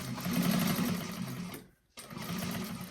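Close, loud rapid stitching from a sewing machine sewing a bag seam, with a brief pause before the motor starts again.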